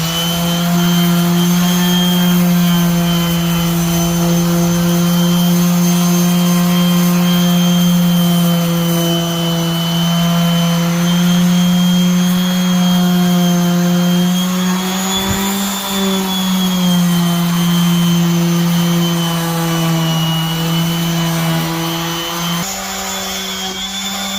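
A dual-action sander with 220 grit paper runs steadily on a Honda CRX outer pillar during a K-swap build, a loud continuous whirring hum with slight pitch dips as pressure changes and no talk.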